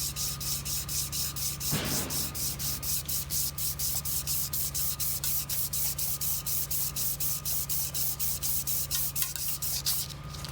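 Emery cloth threaded on a shoestring polishing the port of a cylinder head during an engine rebuild, a steady rhythmic back-and-forth rasping that repeats several times a second, close and loud, with no voices.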